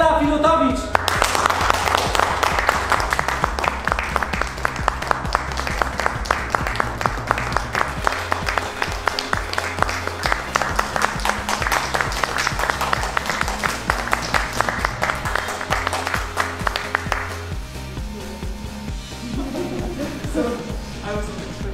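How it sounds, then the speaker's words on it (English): Sustained applause from a large audience, dense and steady clapping that goes on for a long while before tapering off toward the end. "Let me invite to the stage with a great, huge applause, Ela Filutowicz."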